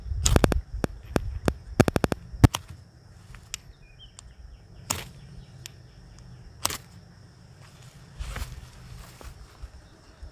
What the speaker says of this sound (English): I'm using my Uberleben fire steel that I've been working on here lately.